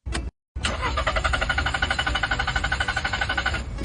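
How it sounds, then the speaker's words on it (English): A car engine cranks repeatedly after a short opening burst and pause, the starter churning in a steady rapid rhythm for about three seconds without catching, loud and close with no voices. "Come on, let's try to start it."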